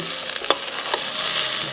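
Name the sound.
onion frying with ginger and garlic paste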